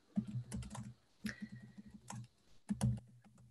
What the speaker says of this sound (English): So I can start typing them in.